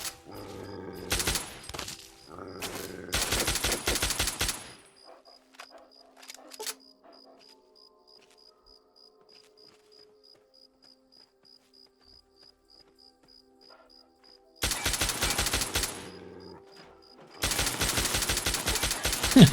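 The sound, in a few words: gunfire, bullets pinging off robot in video game Fallout 3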